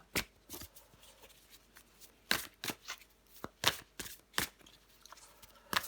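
Tarot cards are shuffled and drawn by hand, giving a series of crisp riffling snaps and soft slides, some sharp flurries spaced irregularly, heard close and alone in a quiet room.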